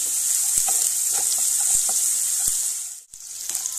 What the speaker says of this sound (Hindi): प्याज को जल्दी से फ्राई करने के लिए इसमें अभी नमक थोड़ा सा ऐड कर देंगे